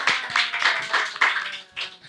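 Audience clapping at a gathering, steady bursts of hand claps from a small group, close and fairly loud, running continuously for about two seconds with no talk.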